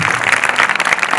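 A live audience claps steadily for a woman giving a motivational talk on exam preparation, a dense burst of applause filling the room without pause.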